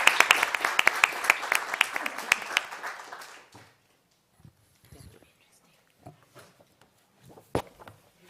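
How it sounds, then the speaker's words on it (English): Audience round of applause at the close of a talk on Lebanon's political paralysis, dense clapping for about three seconds that stops abruptly, followed by scattered faint rustles and a few isolated claps. "Join me now thanking Assem for coming with a big round of applause."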